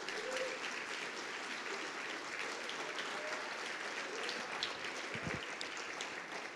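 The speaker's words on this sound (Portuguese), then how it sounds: "Você pode aplaudir ao Senhor?" A church congregation at a Portuguese-language prayer and intercession service claps for the Lord, a fairly faint, steady patter of many hands that continues throughout without pause.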